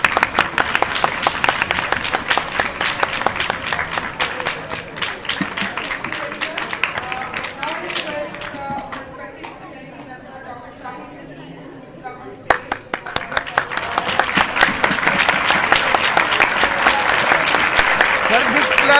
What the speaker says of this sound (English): तालियां बजाना शुरू कर।